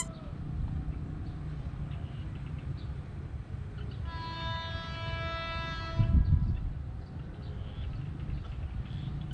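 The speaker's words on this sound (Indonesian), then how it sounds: "Itu dia keretanya keluar dari stasiun Cisauk" A commuter train leaving Cisauk station in the distance, a low steady rumble with a sustained horn blast in the middle, faint and far off with no talk.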